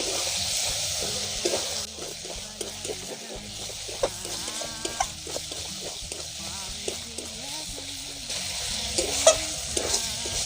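Chicken singara filling with coriander leaves sautéed in a pan, a steady stirring and sizzling with spatula scrapes, close and continuous, with some faint background noise.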